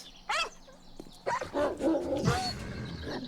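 A dire wolf pack in 7 Days to Die lets out several sharp barks and yips in quick, irregular bursts, near and fairly loud, with game noise beneath.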